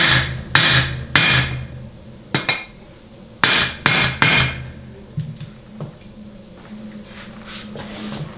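A hammer strikes a bushing driver to seat a seal in a Ford AOD transmission, with sharp metallic blows close by, some in quick pairs, spaced irregularly and fading to lighter taps and handling noise.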